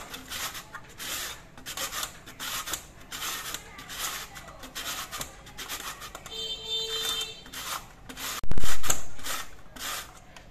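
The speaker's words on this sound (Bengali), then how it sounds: "এই ঘষনি দিয়ে পেঁপেটা আমি ঘষে নেব।" A hand grater shreds raw papaya on its fine-cutting side, making repeated scraping, rasping strokes in a steady rhythm, close and moderately loud, with a louder thump near the end.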